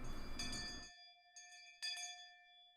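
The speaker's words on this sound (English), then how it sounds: "School bell?" A school bell rings in the Higurashi When They Cry visual novel game, clear ringing tones that strike and sustain, fading between strikes over a quiet background.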